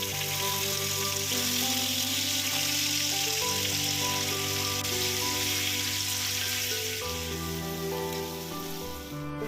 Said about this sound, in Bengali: বাকি চিকেনগুলো একইভাবে ভেজে নিচ্ছি।